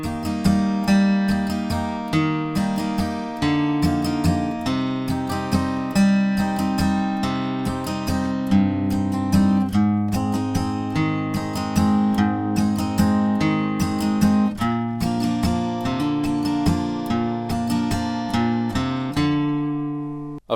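Acoustic guitar plays a song's riff, bass notes followed by quick down-up strums in steady three-note groups, close and clear with no talking.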